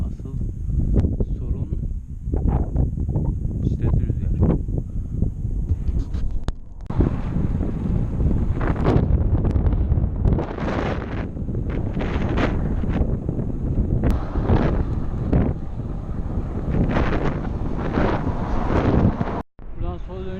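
Heavy headwind on a road between Iğdır and Ağrı buffeting the microphone in continuous roaring gusts, loud and close throughout, with a brief dropout near the end.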